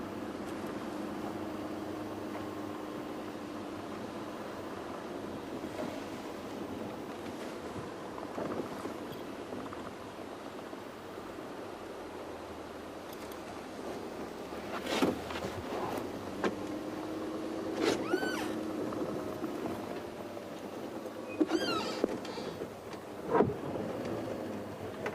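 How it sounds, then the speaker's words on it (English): Rain sweeps into the African bush as a steady broadband hiss, with a few sharp knocks and brief surges rising above the wash later on. No voices are heard. "So there's the next wave of rain."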